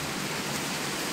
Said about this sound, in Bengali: আর ওদিকে কেমন বৃষ্টি হচ্ছে দেখেছো তো?